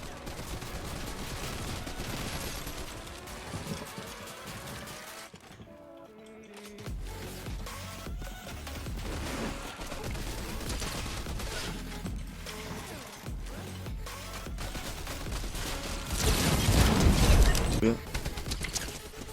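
Rapid bursts of Fortnite gunfire crackle through a busy mix of game sounds, swelling to a louder volley near the end, with talking over parts.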